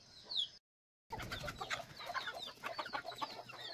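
Chickens cluck and chatter close by in short, irregular calls, with a brief silent gap near the start.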